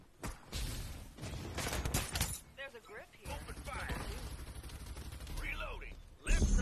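Bursts of video game gunfire crack sharply amid other game effects, with someone talking over the action; shots come in short clusters.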